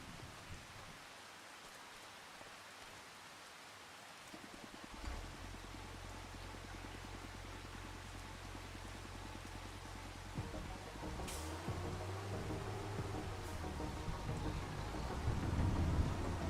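Steady rain pours down in the Farming Simulator 25 game world, a dense continuous hiss with low rumbling underneath, growing slightly heavier toward the end, with a faint thunder-like swell and no talking.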